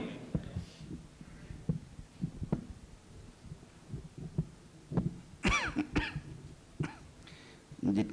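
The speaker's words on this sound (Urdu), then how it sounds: "جتنا منہ سے قریب کیجیے گا کھانسی کی آواز زیادہ تیز دور تک جائے گی" Scattered coughs and throat clearing from an audience at a religious lecture, several short bursts spread unevenly through the room, some near and some farther off, over a quiet background.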